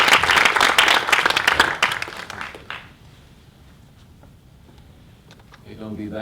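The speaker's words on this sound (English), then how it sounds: "Can we give Dean Carter one more round of applause?" An audience applauds Dean Lawrence Edward Carter, Sr., in dense, loud clapping that fades out after about three seconds, followed by quiet room noise and then a voice speaking.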